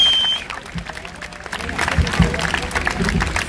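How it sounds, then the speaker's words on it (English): Crowd at an outdoor George Floyd protest rally applauding, scattered claps and cheers rising after a quieter start, with voices mixed in. "Give a round of applause for them."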